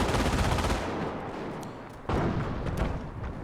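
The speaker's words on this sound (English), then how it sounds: "This MG might have suppressed these guys momentarily." Sustained machine gun fire in Company of Heroes, a World War II strategy game, with an MG team suppressing infantry; loud, dense rattling bursts that continue steadily, then a fresh burst kicks in partway through, with no talking.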